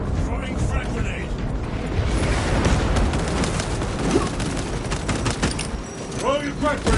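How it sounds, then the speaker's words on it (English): Frag grenade blasts and dense gunfire in Warhammer Space Marine 2 while fighting tyranids, a continuous loud barrage of booms and rattling shots with voices talking underneath. "Throwing frag grenade."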